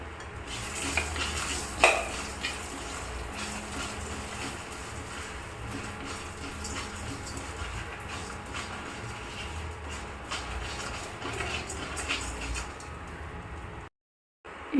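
Urad dal, pepper and cumin dry-roasted in a pan for an idli podi, with a steady faint rustle of stirring and occasional clicks from the spoon against the pan, briefly cutting to silence near the end.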